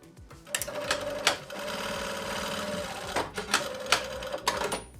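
A sewing machine stitching through six layers of denim at a jeans hem, a close, fast mechanical whirring and clattering that runs steadily, pauses briefly, then resumes.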